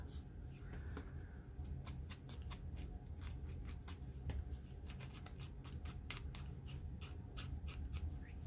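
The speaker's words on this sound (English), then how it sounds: "Just peeling a little bit of that paper off." Paper backing is peeled off a crafting material in a steady run of crackly, papery tearing and rustling that sounds close and fairly quiet, with no talking.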